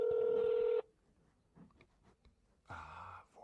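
A telephone keypad dials to transfer a call: one long, clear touch-tone beep, then a quiet stretch with faint clicks, then another tone burst, close and alone.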